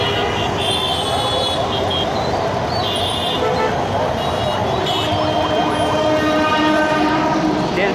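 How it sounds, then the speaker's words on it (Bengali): A train rumbles past close by along a busy road with ambulances and motorcycles around, its horn sounding in long blasts over the continuous roar of wheels and wagons, with voices faintly mixed into the street noise. "ওই সেই বিখ্যাত ট্রেন চলে গেল"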